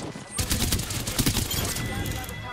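Rapid gunfire from a first-person shooter match in Apex Legends, a dense burst of shots running steadily through the moment at fairly close range with no talk over it.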